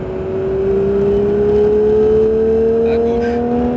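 A Porsche 911 GT3 engine pulls hard on a race circuit, one loud, smooth whine that climbs steadily in pitch as the car accelerates, close and continuous.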